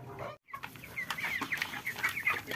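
Chickens cluck and chatter continuously, several 26-day-old white broiler birds close by, with a brief dropout near the start.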